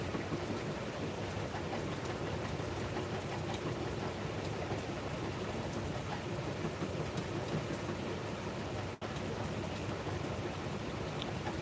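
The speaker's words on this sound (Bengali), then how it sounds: "আজকের প্রচণ্ড বৃষ্টি হচ্ছে" Heavy monsoon downpour, a thick continuous roar of rain on surfaces with a low rumbling undertone, steady and loud for the whole stretch, one brief dropout near the end, no voices.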